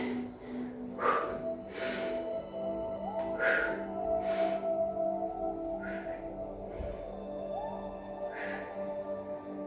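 Breath sounds during a Pilates exercise class, several soft exhalation bursts spaced about every one to two seconds over a steady low background hum, with no talking.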